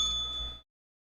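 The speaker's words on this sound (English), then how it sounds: "we're going to ring the bell anyways." A single bright bell strike rings with a clear, sustained metallic tone for about half a second before cutting off abruptly, heard alone and fairly quiet.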